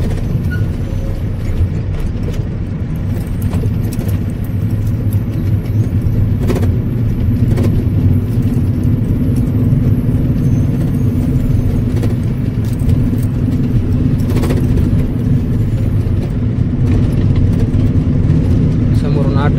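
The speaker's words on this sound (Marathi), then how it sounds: "समोरून ऑटो यायला लागला इकडं" An auto-rickshaw engine chugs steadily with a rattling, clanking body as it jolts over a badly broken, rough road, a continuous loud mechanical rumble and jangle throughout.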